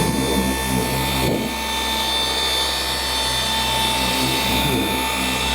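A Liquid Elements car polisher runs at 4,000 RPM, giving a constant, harsh, close-up mechanical whir with a steady hum and slight wavering in tone as the pad moves across the surface.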